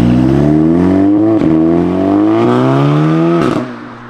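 The engine of an APR Stage 2 tuned Audi S3 revs hard, its tone climbing in steps through several rapid upshifts as the car pulls to the rev limiter, loud and close from inside the car, then easing off.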